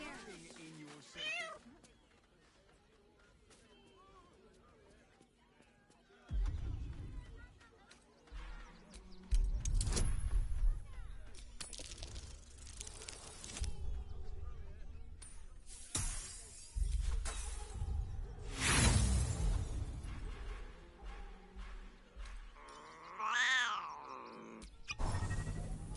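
A cat meows several times in Baldur's Gate 3, short plaintive cries scattered among game ambience, bumps and other sounds, with voices talking at points.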